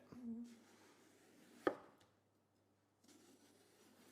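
A knife cutting the top and bottom off an aubergine on a board, one sharp close chop after a soft handling sound, then a brief silence and light rustling.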